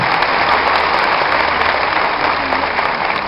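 An audience applauds steadily and loudly throughout, a dense wash of many hands clapping at once, with no voices standing out over it.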